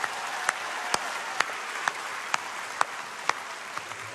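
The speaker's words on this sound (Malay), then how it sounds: "bersamalah kita beri tepukan semangat untuk pewaris nusa dan bangsa" Large audience at a political party general assembly in Malaysia giving steady, dense applause, with sharper synchronized claps landing in an even rhythm about every half second.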